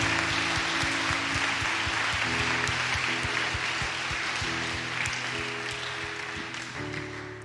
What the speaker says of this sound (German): Darum gebt doch all denen, die das möglich gemacht haben, dass ihr heute da seid, einen herzlichen Applaus.